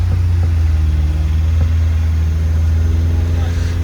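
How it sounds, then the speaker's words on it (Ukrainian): A Volkswagen Golf's engine is held at about 2000 rpm as the car pulls away, giving a loud, close, steady low drone with a slight rise near the end and no voices over it. "газку дай до 2000 оборотів"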